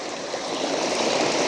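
Stream water flows steadily beside a foraging spot in the countryside, a continuous close hiss and gurgle with no talk over it.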